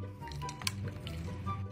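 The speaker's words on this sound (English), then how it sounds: "Now we dump the water in." Water poured into a bag of smashed makeup ingredients, a close, wet squishing and sloshing with small drips and a brief clink, steady and fairly loud.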